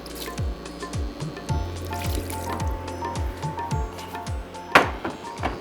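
Water poured into a cooking pot of jhangora millet with biryani masala, giving a continuous liquid trickle and splashing with bubbling pops and a sharper splash near the end, no talking.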